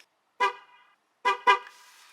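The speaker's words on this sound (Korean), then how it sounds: "다 완료가 되면 빵빵 두 번 소리가 납니다" A Chevrolet's horn sounds after the tire pressure sensor relearn finishes: one short honk, then a quick double toot, loud and close in quiet surroundings.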